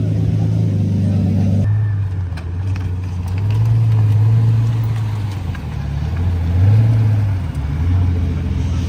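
A green manual Mercedes supercar pulls out at a supercar gathering, its engine rumbling close by and swelling and easing as the car moves off. Other mechanical noise sits underneath.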